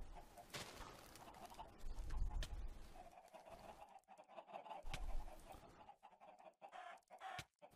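Chickens in the Crazycraft Minecraft modpack cluck and squawk repeatedly in quick, irregular bursts, fairly close and loud, with a few brief pauses between outbursts.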